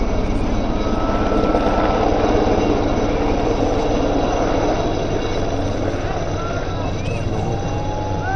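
A helicopter flies along the Manimahesh pilgrimage route in Chamba: a steady, dense rotor and engine roar holds at a constant loudness throughout, with no gaps.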